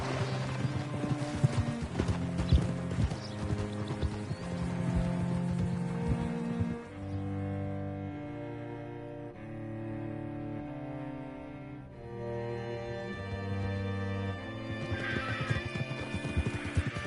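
Horse hooves clip-clop steadily alongside repeated whinnies and snorts in a Western-style video game, mixed with game music; the sounds are moderately loud and continuous throughout.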